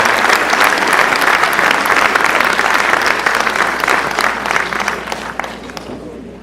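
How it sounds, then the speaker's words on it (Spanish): An audience at an evening school-network event bursts into loud, dense applause from many people, holding strong before gradually thinning out toward the end. "Fuerte los aplausos para el doctor Leon Trachtenberg Siederer."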